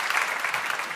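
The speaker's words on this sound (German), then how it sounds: "das ist euer Applaus" Studio audience applauding at a German Schlager music TV show, a steady dense wash of clapping with no talk over it.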